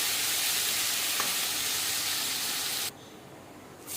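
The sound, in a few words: prawns with salt and turmeric frying in oil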